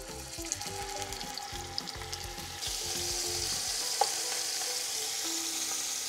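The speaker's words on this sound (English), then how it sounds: "I'm gonna go ahead and start browning my short ribs on all sides." Short ribs searing in olive oil in a Dutch oven give a steady, close sizzle and frying crackle, with faint low thumps and clatter early on and the hiss brightening later; no one speaks.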